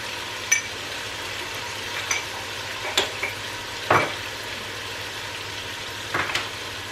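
Spices including garam masala and paprika sizzle in hot oil in a home kitchen pan, a steady frying hiss broken by several sharp clinks and scrapes from the stirring utensil, with no talking.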